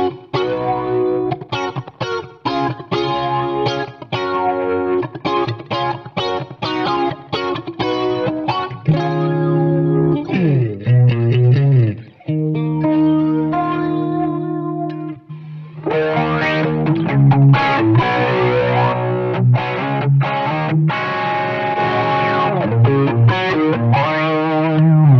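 An electric guitar plays through flanger, compressor and slapback effects for 80s-inspired tones, strummed chords and sustained notes with a swirling sweep and echo, loud and continuous with brief pauses, no talking.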